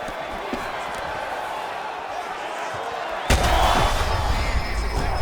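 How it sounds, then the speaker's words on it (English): A UFC 5 video game arena crowd erupts with a sudden loud roar of cheering after a quieter murmuring stretch, the swell holding to the end. "big pop from the crowd as they get back to their feet"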